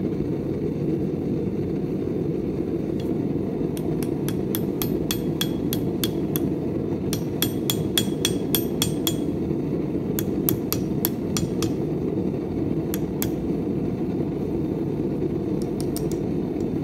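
A small handmade hammer head is tapped onto its handle with a hammer, sharp metallic strikes in irregular bursts of quick blows, near and clear over a steady low background hum.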